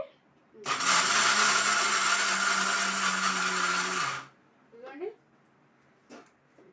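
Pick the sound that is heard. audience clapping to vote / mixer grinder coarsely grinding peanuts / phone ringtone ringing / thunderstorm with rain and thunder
mixer grinder coarsely grinding peanuts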